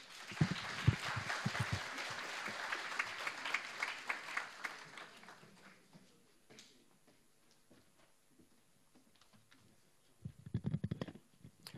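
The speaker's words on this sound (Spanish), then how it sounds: "Un fuerte aplauso, por favor." Audience applause welcoming a speaker at a school welcome day, moderate clapping that fades out, then a quiet stretch with a few scattered sounds and a short burst of noise near the end.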